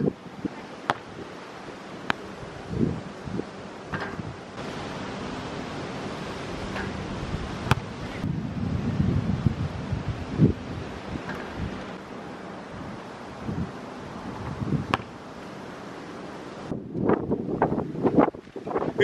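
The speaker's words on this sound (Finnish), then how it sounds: "Täällä on niin hirveä tuuli, että mua niinku sattuu korviin." Strong gusting wind buffets the microphone, roaring in uneven surges with thumps and rumbles, heaviest near the end.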